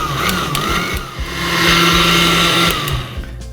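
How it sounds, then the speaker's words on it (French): An electric blender whirs through ice cream syrup for a home sorbet, its motor loud and close, churning with rhythmic low thumps as the contents tumble, a high whine on top, then slowing toward the end. "j'arrête le mixeur"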